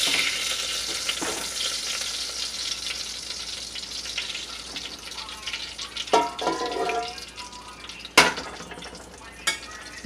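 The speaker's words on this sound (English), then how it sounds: "And it is going to sizzle a little bit." Hot grease from meatballs crackles and sizzles steadily in a pan, close up, with a few metallic clanks and scrapes of a utensil partway through.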